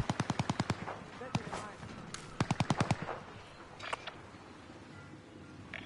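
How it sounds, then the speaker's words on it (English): Rapid bursts of automatic gunfire in Rebirth Resurgence, with several quick volleys and single cracks, some close and sharp and others fainter, scattered across a busy battle scene. "So they call an airstrike on us."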